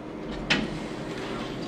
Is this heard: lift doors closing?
yes